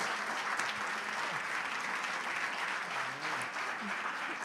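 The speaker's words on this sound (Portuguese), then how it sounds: "uma salva de palmas ao Senhor" A church congregation applauds during a Sunday celebration service, steady sustained clapping from many hands at a moderate distance, filling the room without a break.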